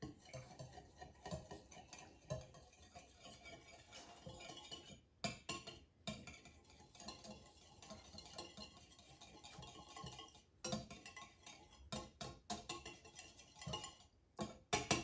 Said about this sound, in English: now it's time to whisk these together